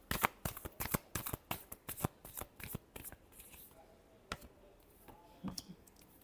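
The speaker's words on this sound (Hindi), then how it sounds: "Last shuffle." Tarot cards riffled and shuffled in quick, crisp bursts of snapping clicks, dense at first and then thinning to a few scattered flicks, close and fairly quiet with no talk.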